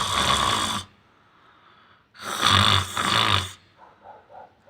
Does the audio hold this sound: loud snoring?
yes